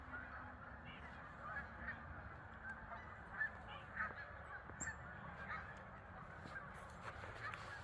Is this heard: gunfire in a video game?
no